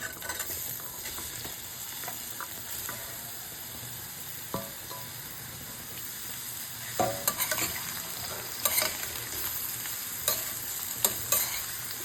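Sliced bottle gourd sautéing and sizzling in leftover oil in a pan, with a steady frying hiss and scattered scraping stirs that grow more frequent toward the end, no voices.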